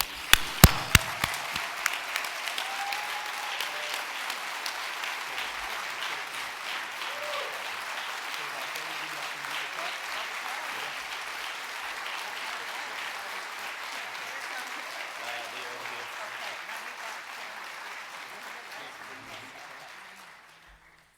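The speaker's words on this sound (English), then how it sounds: "join with me in another round of applause" A crowd breaks into sustained applause, sharp claps at first settling into steady clapping that fades out after about twenty seconds.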